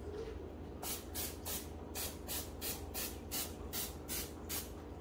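Nonstick cooking spray hisses onto a whole chicken being prepped for a barbecue rotisserie, about a dozen short even bursts in a quick rhythm over a steady background hum.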